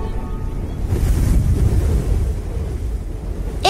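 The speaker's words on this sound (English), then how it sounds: "It's windy." Wind gusts on a cloudy day, buffeting the microphone with a rough, fluctuating roar that swells in the middle and eases off, with no voices.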